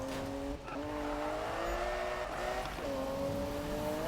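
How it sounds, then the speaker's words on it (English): A car drifting in the Need for Speed (2015) video game, with a sustained tonal tire squeal and engine whine that dips briefly and then resumes, steady and fairly loud, with no talking. "This car sometimes catches grip like mid-turn while I'm drifting"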